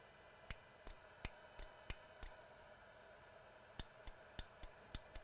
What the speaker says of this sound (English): The relay is clicking.